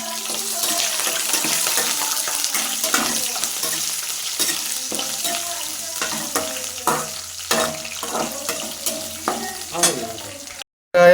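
Green chilli, onion and tomato fried and stirred in a pan for a chicken gravy, with a steady sizzle broken by repeated scraping and clattering stirs, close and fairly loud, ending in a brief gap and a sharp noise.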